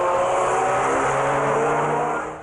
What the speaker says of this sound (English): But roaring up from behind comes the lunatic. Just the sound of the car.